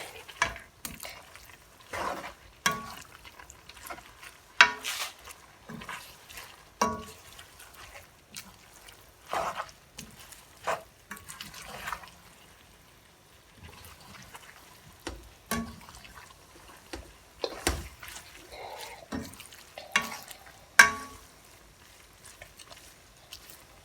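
Haitian spaghetti being stirred in a pan over a gas flame, giving intermittent scraping clinks and soft wet stirring sounds with quiet gaps between strokes, close and fairly faint, with no talking.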